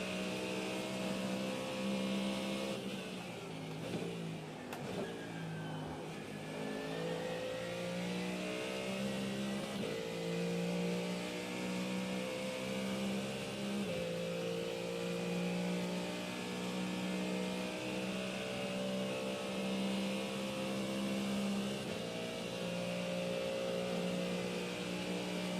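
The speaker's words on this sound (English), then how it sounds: "Porsche Cup car, man. And it just got very loud in my headphones." Porsche Cup race car engine in the iRacing simulator during the Nurburgring 24 hours, a steady droning whine rising and falling through gear changes, loud and continuous with no talking.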